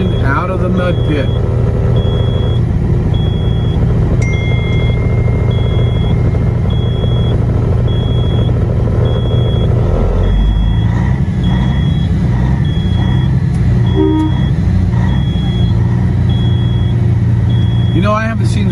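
A fire engine working its way free of a mud pit during a freedom truck convoy, heavy engine rumble and idling running throughout with beeping, louder surges later, people talking over it.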